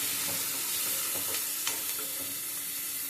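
Onions frying in a pan until soft and golden, a steady close sizzle with occasional scrapes and stirs of a utensil throughout, no voices.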